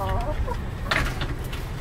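An Ameraucana hen with a muffed face clucks close by in a backyard coop, a few short throaty clucks over steady low barnyard noise.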